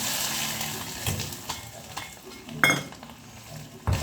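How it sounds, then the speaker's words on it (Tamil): Chicken chukka pieces fry in hot oil, a steady close sizzle with stirring scrapes and occasional clinks of a spoon against the pan. "எண்ணெயில் போட்டு அப்படியே வறுத்து எடுத்துக்கிடுவோம்"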